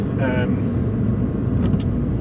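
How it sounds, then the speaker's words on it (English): Turbo blow-off from an Alta valve on an R56 Mini Cooper S: a brief fluttery release burst over steady, close engine rumble and road noise. "the sort of blow-off sound."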